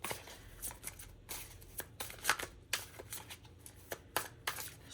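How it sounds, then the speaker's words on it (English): Tarot cards are shuffled by hand in bursts of riffling and flicking, separated by brief pauses. The sound is close but quiet, with no voice. "Shuffling's a little messy,"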